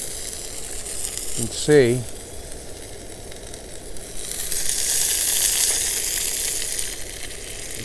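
Fish frying in a back-country skillet gives a steady sizzle with a brief scrape near the start, and the hiss swells louder in the second half. Someone speaks briefly over it.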